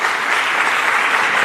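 Dense audience applause fills a formal tourism ministry session, loud and steady throughout with no voices on top.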